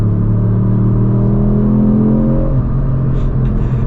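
A 2024 Ford Fiesta ST facelift in racetrack mode accelerating hard, the engine note rising steadily and loud inside the car before easing off near the end.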